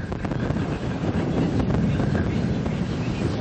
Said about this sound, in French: En mer, le vent n'a pas faibli.